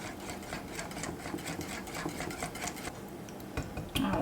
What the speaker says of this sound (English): we're just going to give this a mix until it's all well combined